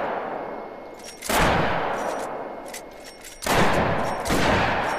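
Two heavy booming shots from a 10 gauge lever action gun in theHunter: Call of the Wild, each a loud close blast followed by a long rolling echo tail, spaced a couple of seconds apart.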